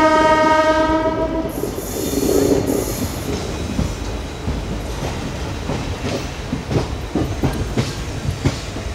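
A train on the Guntur to Dhone line in Andhra Pradesh sounds a long loud horn, then runs on with a steady heavy rumble, rhythmic wheel clatter and some squeal, close and continuous.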